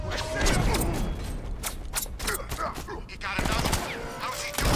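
Sentry gun fire in the video game Batman: Arkham Knight, bursts of rapid gunfire crackling in a busy mix of clanking mechanisms, effects and game voices throughout.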